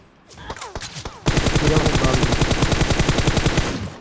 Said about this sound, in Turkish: Ben M24'ü vuruyorum.